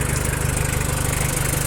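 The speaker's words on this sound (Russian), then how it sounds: "Думаю, слышно, что очень хорошо трактор работает." A Mitsubishi MT-2201 four-wheel-drive mini tractor engine idles close by. It runs smooth and even with a steady low rhythmic throb, and no one speaks.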